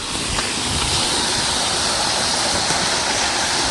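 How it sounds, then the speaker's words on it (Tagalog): A flowing stream gives a dense, continuous rushing of water, loud and close, steady throughout with no voices. "nandito na yung sapa na sinasabi nila"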